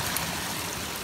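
Spring water flows steadily from a natural source amid thick brush, a continuous close splashing rush with no voices.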